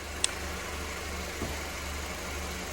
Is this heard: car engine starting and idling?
yes